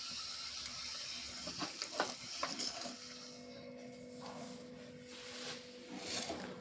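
Chilli powder tadka sizzles in hot oil while cooking Nepali chukauni, with a few clattering stirs early on, then a steady close hiss of frying.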